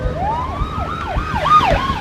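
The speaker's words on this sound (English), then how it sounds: "here were 3 police cars coming towards me. Lights flashing, sirens blaring." Police car sirens blare loud and close, rising and falling in a fast wailing sweep over the rumble of passing traffic.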